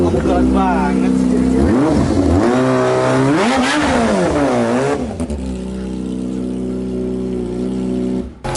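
A Kawasaki Ninja ZX25 motorcycle engine revs up sharply, climbs and falls in pitch, then settles into a steady, close idle.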